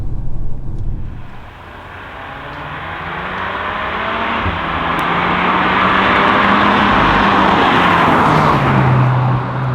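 A 320-horsepower VW Arteon R Shooting Brake accelerates hard, its engine note climbing in a long, loud, rising surge after a brief lift, heard from inside the car without talk.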